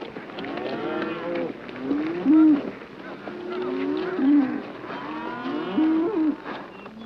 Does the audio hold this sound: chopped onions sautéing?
no